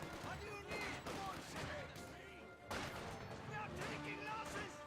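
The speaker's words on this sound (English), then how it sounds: "Another sniper shot somewhere on that Grenadier squad." Sniper rifle shots ring out in the Company of Heroes 2 strategy game against a Grenadier infantry squad, sharp cracks amid a busy, continuous battlefield din of other gunfire and impacts.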